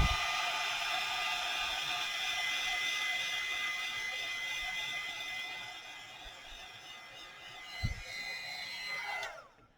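A heat embossing tool blows hot air onto embossing powder, a steady loud whooshing hiss with a whine that runs nearly ten seconds before spinning down, with a brief knock near the end.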